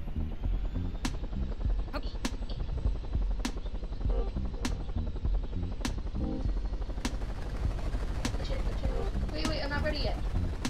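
A helicopter in the video game Totally Unreliable Delivery Service throbs steadily and loudly throughout, broken by sharp periodic clicks and a brief chirpy effect near the end.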